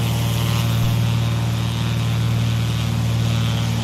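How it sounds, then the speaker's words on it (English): Propeller aircraft engine noise from Microsoft Flight Simulator 2020 on a flight over the Bahamas near Bimini, a loud steady drone with a strong low hum that runs unbroken throughout, with no talk. "Sorry about the engine noise."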